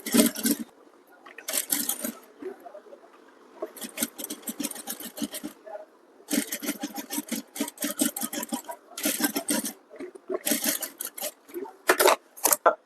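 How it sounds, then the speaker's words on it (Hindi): A sewing machine stitches Sabyasachi-style blouse fabric in bursts of rapid rattling whirr, each a second or two long, with short pauses between runs. The machine sounds close and moderately loud. "आपको देखना है कि किस तरह से मैं सिलाई लगाता हूँ।"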